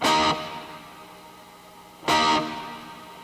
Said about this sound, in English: So it's Trinity chorus, then dynamic delay, then the particle reverb.